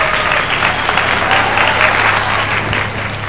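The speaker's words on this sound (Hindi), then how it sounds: "तो जोरदार तालियों के साथ स्वागत करिए अमिताभ बच्चन का।" A live comedy show audience applauds loudly and continuously, a dense close roar of clapping from a large crowd that holds for several seconds.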